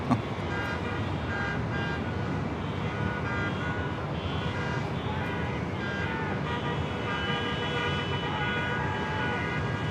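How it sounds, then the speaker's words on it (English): Car horns honk repeatedly amid steady roadway traffic noise near LAX, a dense, continuous wash of overlapping toots over a loud rumbling background. "the horns are going crazy."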